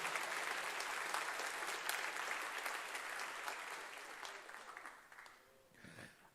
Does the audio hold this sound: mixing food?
no